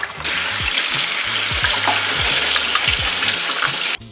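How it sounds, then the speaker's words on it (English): Canned black beans are rinsed under a running kitchen tap, producing a steady, loud, close rush of water with a low rattling undertone that runs continuously for about four seconds before stopping abruptly. "So I'm gonna wash a can of black beans."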